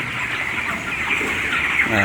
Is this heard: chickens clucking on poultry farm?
yes